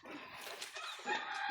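Chickens bought at a Philippine market cluck and squawk briefly, a short close burst of fowl calls against faint background bustle.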